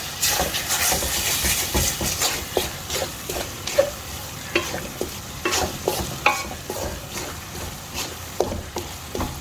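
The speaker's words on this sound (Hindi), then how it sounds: "और इस मौके पे मैं कीमे को अब अच्छी तरह भूनूँगी।" Minced meat keema frying in a pan, with loud rhythmic stirring and scraping strokes over a constant sizzle, close and without talk.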